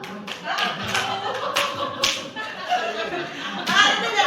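During a classroom clapping game, students clap in a ragged, uneven burst of overlapping hand claps and taps, with murmured voices and a chuckle mixed in.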